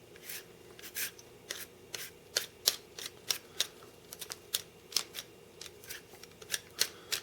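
A Miracle Peeler blade slices repeatedly through produce, giving crisp, quick scraping strokes in an irregular rhythm, close and fairly quiet with no talking.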